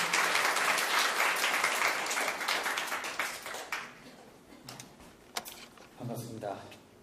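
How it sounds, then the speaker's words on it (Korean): Audience at a startup forum breaks into applause, a dense burst of clapping that thins out over several seconds as a voice speaks over the tail. "힘찬 박수 부탁드리겠습니다."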